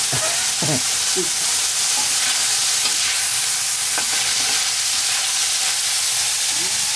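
June beetles fry in a hot pan with a loud, dense, unbroken sizzle up close, with scattered pops and crackles throughout and no speech.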